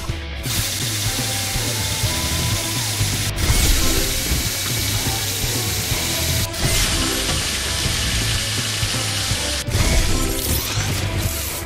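A toy-like power drill from a PAW Patrol video game grinds and rattles continuously and loudly with a ratcheting mechanical texture. Brief cuts break it up over about twelve seconds.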